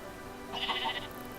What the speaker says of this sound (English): Alright, we have 2 sheep.